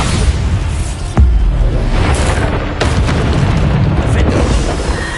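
Bombarda explosion spell cast in the Hogwarts Legacy video game on PS5: loud booming blasts, one heavy hit near the one-second mark and another partway through, over a dense, continuous roar of battle noise.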